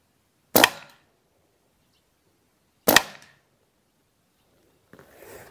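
Two sharp, loud gunshots from a Rossi Outlander carbine firing slugs, spaced about two seconds apart, each with a short decaying tail, followed by faint rustling outdoors.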